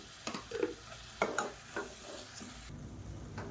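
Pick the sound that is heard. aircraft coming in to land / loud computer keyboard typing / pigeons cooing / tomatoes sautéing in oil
tomatoes sautéing in oil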